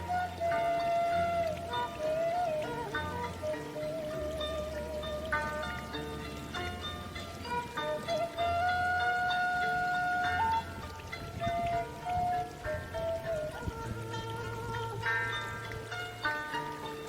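Hot spring water flows from a small crater toward a river at Cipanas Cibodas, Sukajaya, Garut, a soft steady trickle and gurgle close by that lasts throughout, with faint tonal background music.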